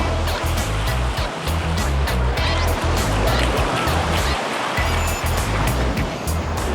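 Ocean surf rolling in at Bondi Beach, a loud continuous roar of breaking waves with heavy wind-like rumble, no clear talk on top.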